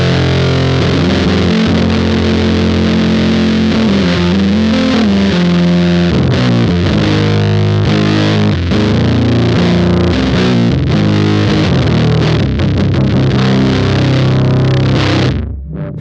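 Electric guitar played through a Sonic Terrors Minotaur pedal with its grit toggle in the middle and every knob at noon, giving a loud, thick, saturated tone of sustained chords and riffs that cuts off abruptly at the end.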